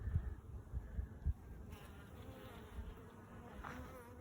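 Honey bees buzzing around an open hive during an inspection, a faint steady drone with a few low thumps early on and no talking.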